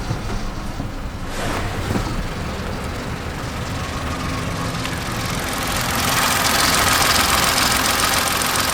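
A Kia Picanto engine idles steadily with a dense, buzzy rattle running throughout, growing slightly louder toward the end.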